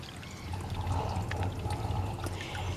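Water pours and splashes steadily in a newly installed garden fountain outdoors, a soft continuous trickle with faint low rumble beneath, heard alone without talk.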